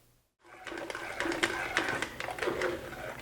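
A mill grinds dried chili skins for chili con carne, a steady buzzing grind that starts after a brief silence and runs loud and continuous, with repeated surges and rattling bursts.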